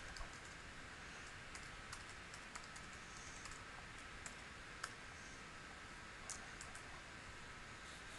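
Fast, light typing on a computer keyboard while writing ActionScript 3 code, a steady run of soft close clicks over a constant background hiss.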